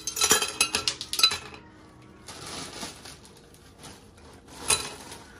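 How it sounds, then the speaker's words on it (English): Ice cubes for homemade iced coffee clink sharply into a glass in a quick burst of bright rattling hits, followed by quieter shifting and one more clink near the end, close up with no talk. "so I'm starting with my ice"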